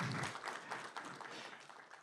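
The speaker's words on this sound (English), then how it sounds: "Give him a round of applause, everybody." People at a county board of supervisors meeting applaud, a faint, steady patter of clapping lasting about two seconds.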